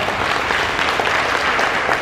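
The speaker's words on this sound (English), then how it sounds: "Let's clap it up for that." An audience applauds at a senior week and graduation gathering, a thick, steady roar of many hands clapping together, loud and unbroken throughout.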